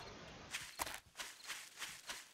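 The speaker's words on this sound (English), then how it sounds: "I can hear my own footsteps well." The player character's footsteps in the survival game 7 Days to Die. Soft, evenly spaced steps fall roughly every third of a second, quiet and close, with no talking.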